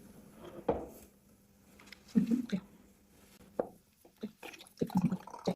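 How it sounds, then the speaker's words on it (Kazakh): Water splashes and trickles into a glass in a few short, uneven bursts, close by, with quiet pauses between pours. "мына стаканға Ислам су құя қой"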